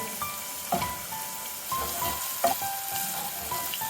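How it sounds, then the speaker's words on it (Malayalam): Curry leaves on their stems frying in hot oil in a pan while making vendakka pollichathu, a steady close sizzle with a few sharper pops and crackles. "കറിവേപ്പില തണ്ടോട് കൂടിയാണ് ഇട്ട് കൊടുത്തിട്ടുള്ളത്. ഇതൊന്ന് മൂത്ത് വരട്ടെ ഇതിന് കിടന്ന്."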